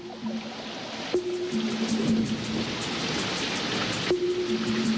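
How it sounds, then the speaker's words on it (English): Steady rain pours down in Ngorongoro Crater, Tanzania, in a dense hiss, with a faint low hum and occasional soft thuds underneath. "Wildebeest, Grant's gazelle, lion, all soak in the cool rain."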